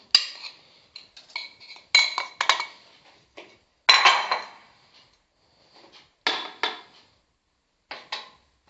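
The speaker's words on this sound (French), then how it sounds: "Dans un pot ou un saladier, mélangez les ingrédients" Flour and other ingredients being mixed in a bowl for Moroccan beignets, heard as a run of light clinks and scrapes of a utensil against the bowl that come in bursts with quiet gaps between.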